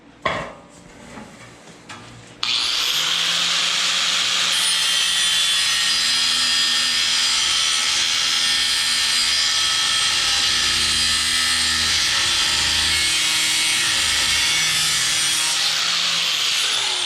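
A power tool grinds and cuts a corner off a flat deck trailer fender, starting after a brief rustle and then holding a loud, steady, harsh metallic whine for the rest of the clip.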